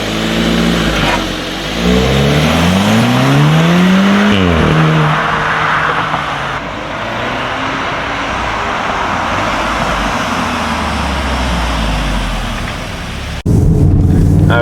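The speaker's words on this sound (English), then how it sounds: "driving the Golf R" A Volkswagen Golf R engine pulls through rising revs on the road, the tone sweeping upward, briefly easing, then settling into a steady loud drone with tire and road noise, ending in a sharp burst of wind or handling noise.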